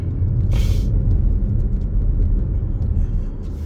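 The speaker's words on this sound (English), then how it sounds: "And then I go into the nearest lane and accelerate through the turn." A car accelerating through a turn from the nearest lane, heard from inside as a loud, steady low engine and road rumble with a short hiss near the start.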